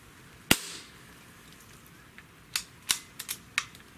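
A Xisico PCP air rifle fires a 10.65 grain Barracuda Match pellet: one sharp, near crack, then after a pause a quick irregular run of softer clicks and snaps.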